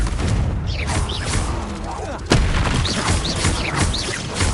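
Confringo fire spell blasting in the game Hogwarts Legacy, heard as dense booming explosions layered over continuous game audio, with a sharp louder burst midway.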